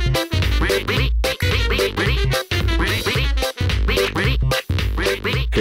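The cartoon duck Pato from Pocoyo gives a loud run of nasal, honking quacks in rapid repeated bursts with short gaps, close up and alone with no talk.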